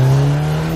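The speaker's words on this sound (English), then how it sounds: "Stomp on the accelerator in the lower gears and the engine ferociously builds turbo boost, lighting up the back tyres" A 2017 KTM X-Bow with a turbocharged engine and limited-slip differential pulls hard in a low gear, a loud, steady engine drone with the rear tyres spinning for a brief moment.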